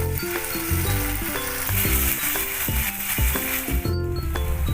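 Boiled tomato paste sizzles loudly in hot oil, a steady close crackle and hiss with some scraping stirring sounds over it and no voices.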